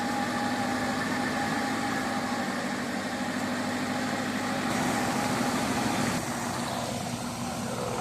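An off-road vehicle in a convoy climbs a muddy trail in the Beskid mountains, its engine giving a steady, loud drone under load that barely changes pitch for about eight seconds.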